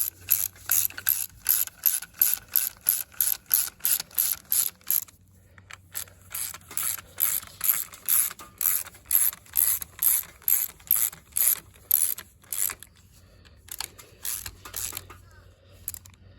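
A ratchet tightens bolts on a classic Mercedes W126, giving long runs of quick, even clicks close by, with short pauses between bursts as the handle swings back and forth.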